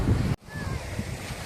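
Ocean waves wash steadily at a beach in Puerto Galera, a broad surf roar with some wind buffeting, briefly dropping out for a moment before resuming.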